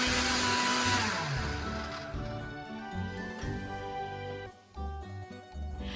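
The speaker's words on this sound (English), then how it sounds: "in the blender. Sorry for the noise." A blender whirring loudly as it mixes a green smoothie with lime, a steady motor roar that shifts in pitch as the contents churn, briefly dipping before surging again, with no talk.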